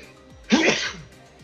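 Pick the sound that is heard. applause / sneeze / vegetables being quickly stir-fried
sneeze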